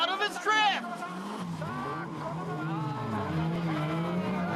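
Drift car at a D1 Street Legal round at Maze, skidding and squealing its tires through a drift. A sustained engine and tire roar runs under an English-subtitled commentator talking throughout, loud and near.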